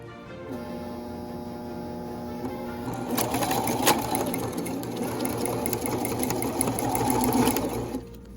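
A sewing machine stitches down a drawstring with burnt edges on a Regency corset, starting with a soft whir and then running in a steady, fast mechanical hum up close, stopping at the end.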